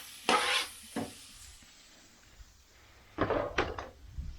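Broccoli and tomatoes are stirred in a pan while they cook: a few soft scraping strokes with faint frying sizzle between them, quiet and close, with no talk.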